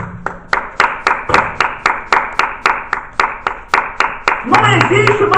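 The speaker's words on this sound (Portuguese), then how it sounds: "Uma salva de palmas." Church congregation clapping together in a round of applause for a preacher, loud, evenly spaced rhythmic claps close by, with voices mixed in near the end.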